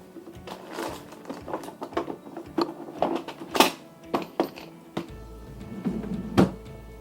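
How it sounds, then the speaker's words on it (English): Small clicks and ratcheting taps come from a screwdriver threading a Phillips head screw into a standing weed puller, irregular and fairly close, with short pauses between turns. "So this is a Phillips head screw, and just need to thread it in there. Let me just get a screwdriver."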